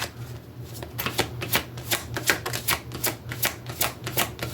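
Tarot cards shuffled by hand in a steady run of crisp riffling bursts, close and fairly loud, with a low steady hum underneath and no talking.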